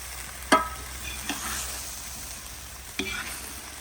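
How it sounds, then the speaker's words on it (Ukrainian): Pork belly fries for Ukrainian plov, a steady, moderate sizzle broken by a few sharp utensil scrapes and stirring knocks against the pan. "піджаримо м'ясо. У нас бочок сьогодні."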